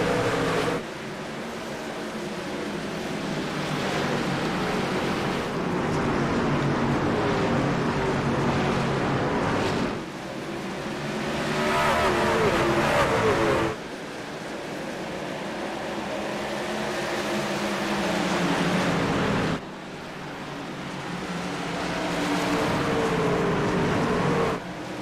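A 33-truck NASCAR Truck Series field racing at New Hampshire Motor Speedway in a sim race, a loud, steady engine roar that swells and dips as the pack sweeps by, with short drops in level between passes.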